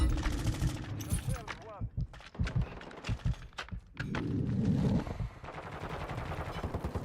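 Shotgun blasts in the Modern Warfare 2 multiplayer game, a string of sharp, punchy shots fired at irregular intervals, each one close and loud, with a voice talking between them.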